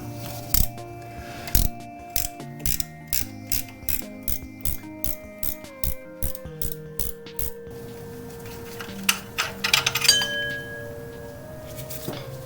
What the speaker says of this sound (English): I should be able to break these free with my ratcheting wrench.